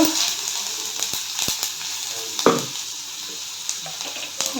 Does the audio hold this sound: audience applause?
no